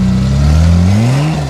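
A Toyota Land Cruiser 4WD pushes hard through a sand trap at a CruiserKhana event, its engine close and loud, the pitch climbing steadily as it revs and accelerates.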